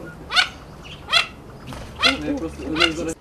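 Four loud, raspy duck calls come in separate bursts, close by and fairly evenly spaced, with quieter chatter between the last two.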